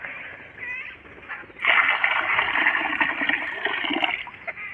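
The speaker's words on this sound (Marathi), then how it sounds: "चला मंडळी, आता बघा पाणी बघा ओततो." Water is poured out for birds to bathe in, and a gushing, splashing pour starts partway through and continues steadily up close. Faint bird chirps can be heard before the pour begins.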